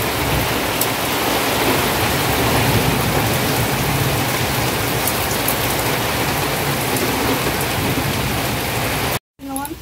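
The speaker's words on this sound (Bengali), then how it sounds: "দেখো এবার কিন্তু ভালো বৃষ্টি করছে" Heavy rain pours steadily in a broadband roar at a home, loud and continuous, cutting out abruptly just before the end with a brief faint sound after.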